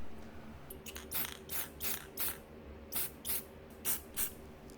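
Short bursts of spray paint hiss onto a reground Harbor Freight band saw clamp, with roughly nine quick puffs in an uneven rhythm close to the can and no voices.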